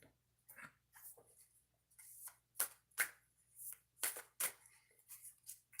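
Oracle cards are shuffled by hand in a quiet room, making soft, irregular riffling and sliding bursts with short pauses between them. There is no talk.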